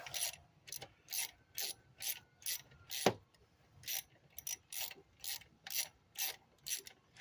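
A ratchet wrench clicks in quick, even bursts, stroke after stroke, working a tight bolt loose on a 1996 Lumina during fuel rail removal, with one sharp metallic knock partway through; close and clear, no talking.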